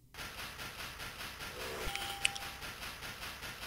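A train in the retro video game North & South chugs along in a steady rhythmic hiss, with faint mechanical clicks and a brief chime in the middle.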